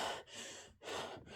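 A voice imitates panting, with three quick, breathy huffs in a steady rhythm, close and moderately loud, separated by brief silent gaps.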